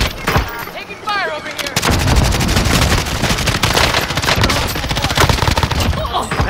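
Rapid video-game gunfire in a combat match, dense bursts of shots and automatic fire rattling continuously at close range, loud throughout with a brief vocal sound near the start.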